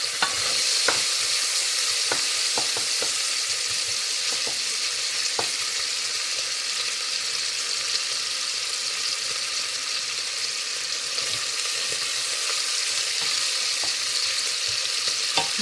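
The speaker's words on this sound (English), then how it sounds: "And I let it just fry a little bit before I add the vegetables." Bacon fries in a soup pot as the base for split pea soup, giving a low, steady sizzle with scattered faint pops and clicks throughout and no talking.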